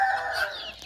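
A hen, mother of small chicks, perched on a person's hand gives a short, close, rising cluck-like call in a single brief burst.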